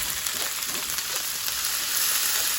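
Steady, dense sizzling of leeks frying in a hot pan, continuous and fairly close, with no voices.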